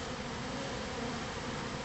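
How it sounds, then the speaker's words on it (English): A garden swarm of honeybees gives a steady, dense buzzing drone up close, holding constant and unbroken throughout with no voices. "When bees are in swarm mode like this, they won't sting you."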